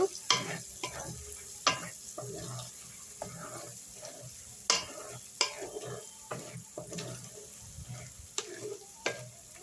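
Mutton pepper fry sizzles softly in a pan while a spoon scrapes and clinks against the metal in irregular strokes, close and moderately quiet, with no voices.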